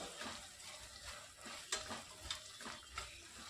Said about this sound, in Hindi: 1 चम्मच यहाँ पर मैंने जिंजर गार्लिक का पेस्ट डाल दिया है। डालकर अच्छी तरह से मिक्स कर लेना है